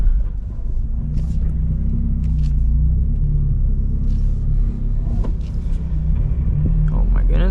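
Subaru BRZ with a manual gearbox pulling away in first gear, its engine bogging with a low, steady rumble from inside the cabin, with voices talking over it.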